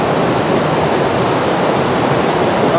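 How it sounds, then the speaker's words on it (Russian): Reservoir overflow water discharging down into the Kallang River in Singapore, a loud, steady roar of rushing water that holds constant throughout with no other sounds. "и водохранилище пошел слив воды вниз на реку Каланг"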